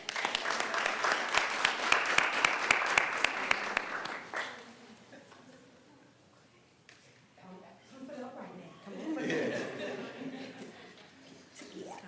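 Applause for a campus leadership team at a public board meeting, a crisp round of clapping from a modest crowd that fades out after about four seconds, followed by quieter murmuring, chuckles and talk in the room.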